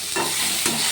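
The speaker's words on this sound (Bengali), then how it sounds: "দিয়ে ভালো করে নাড়াচাড়া করবো।" Vegetables stirred in hot oil tempered with panch phoron for a gadhal leaf curry, two distinct scraping stirs over a steady close sizzle, no talk.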